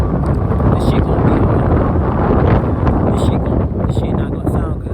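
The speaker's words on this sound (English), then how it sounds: "because it's so fucking windy out" Strong outdoor wind buffets the microphone at a campsite, a loud continuous roaring rumble that never lets up for the whole stretch.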